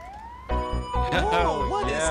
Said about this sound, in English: That looks like a hospital on wheels. It's an ambulance.